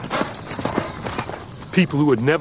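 Horses gallop in a historical conquest scene, their rhythmic clip-clopping hoofbeats running under a narrator's steady speaking voice throughout.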